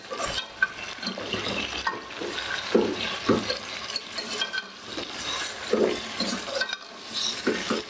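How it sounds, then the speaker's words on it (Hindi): Chicken pieces with ginger garlic paste stirred in a pan for malai chicken biryani, giving steady scraping and sizzling with spoon knocks against the metal, close and continuous without talk. "चिकन ऐड करने के बाद हम इसमें ginger and garlic paste add करेंगे और इसे मिक्स करेंगे।"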